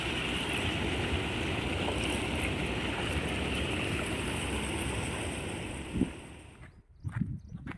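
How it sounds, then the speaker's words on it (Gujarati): A full river rushes as a continuous, steady wash of flowing water heard from close by, fading away near the end where a few brief knocks and rustles break through. "તો આ આખી નદી પાણી પાણી ભરેલી છે મિત્રો"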